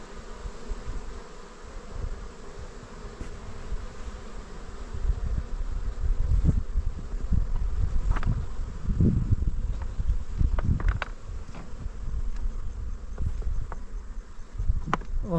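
Bees buzz around their hives outdoors, a continuous hum of many insects with individual bees passing close and darting by, set against a low rustling background.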